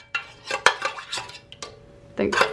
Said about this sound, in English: And now I just give it a gentle little stir here.